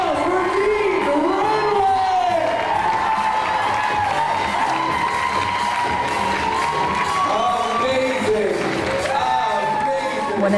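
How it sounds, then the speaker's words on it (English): Loud crowd cheering and applause for a fashion designer, with whoops and shouts over dense clapping throughout, and voices calling out above the noise. "Let's give a round of applause for Regina"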